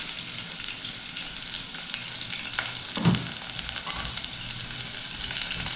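Garlic fries in hot oil in a pan, giving a steady close sizzle and hiss with a brief louder clatter partway through, no voices.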